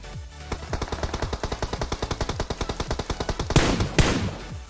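Rapid automatic gunfire from a PUBG Mobile match, a long steady burst of evenly spaced shots followed by two louder, sharper blasts near the end, with no talk over it.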